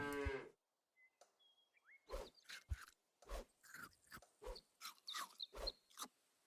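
A cartoonish cow moos in Super Auto Pets, a short low moo followed by a run of rhythmic crunchy chewing and munching game effects with small chimes, all fairly faint.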